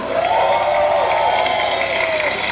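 An audience applauds and cheers at a live event, a steady wash of clapping and crowd noise that holds loud through the whole moment.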